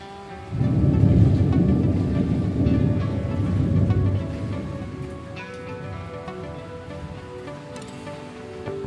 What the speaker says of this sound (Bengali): আর দেখো বাইরে বৃষ্টি কী হারে বৃষ্টি হচ্ছে আর বিদ্যুৎ চমকাচ্ছে